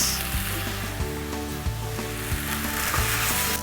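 Szechwan fried rice is stir-fried street style with a steady loud sizzle. A spatula scrapes and knocks against the pan in a regular rhythm about every two-thirds of a second, and no one talks over it.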